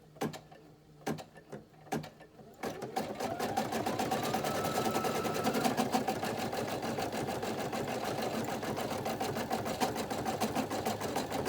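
Embroidery machine stitching zigzag stitches on a kids shirt, starting with a few separate clicks, then settling into a fast, steady mechanical chatter that runs on without a break.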